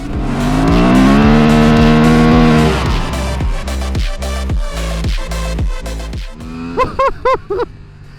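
A 2024 Honda Transalp XL750 adventure motorcycle engine revs hard and accelerates close up, a loud rising roar that climbs through gear changes with clipped shifts and a few sharp bursts near the end.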